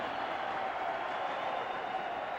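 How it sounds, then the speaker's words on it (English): Roller derby crowd roaring in a San Francisco arena during a 1973 Bay Bombers versus NY Chiefs game, a steady broadband wash of cheering that fills the whole moment without a break. "Fans roaring here in San Francisco."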